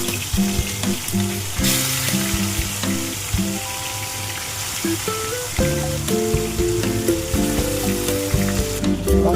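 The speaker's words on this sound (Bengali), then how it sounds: "তেলটা গরম হয়ে গেছে, মাছগুলো আমি দিয়ে দেবো।" Bhola bhetki fish frying in hot oil in a pan, a loud, continuous close-up sizzle with crackling and occasional stirring clatter throughout.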